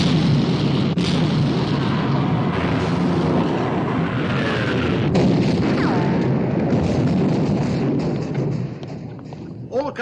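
Heavy naval guns from a WWII Royal Navy warship firing in a 1960 war film, a dense dramatic mix of deep booms and thuds layered under music and voices, loud and sustained throughout with a small burst near the end.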